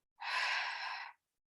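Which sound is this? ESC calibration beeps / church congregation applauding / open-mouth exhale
open-mouth exhale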